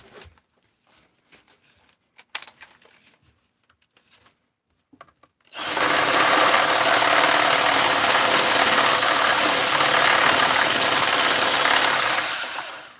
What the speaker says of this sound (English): All I'm trying to do is drill a little bit of a chamfer on there